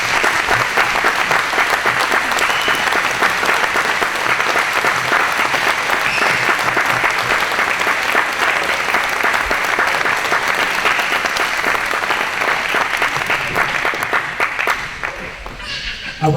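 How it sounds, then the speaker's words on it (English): Lions Club members stand while the room gives them a long round of applause at a YMCA event, a loud, dense, steady wash of many hands clapping with crowd voices under it, thinning out at the end. "I would like to have all the Lions Club members stand up, please, for a big round of applause for all your support."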